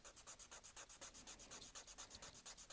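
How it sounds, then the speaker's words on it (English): A nail file rasps back and forth across a fingernail in quick, even strokes, about eight per second, a close, faint scratching rhythm with no voices. "now I'm going to take my nail file and I'm just going to be filing"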